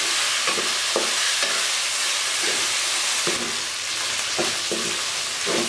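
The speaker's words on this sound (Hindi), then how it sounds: "टमाटर और प्याज के साथ हम कीमे को तकरीबन 3 से 4 मिनट भून लेंगे।" Minced meat with tomato and onion sizzles steadily in a pan, a continuous close frying hiss broken by occasional stirring scrapes.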